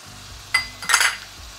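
A spoon stirs beef with soy sauce and brown sugar in a frying pan, with two short scraping clinks against the metal over a soft sizzle, near and brief.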